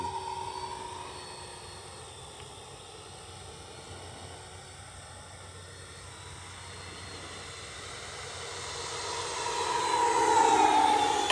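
A Freewing Ares 3D 90mm electric ducted-fan RC jet flying a circuit outdoors, giving a steady whooshing whine that fades while the jet is far away and then swells louder as it passes close near the end.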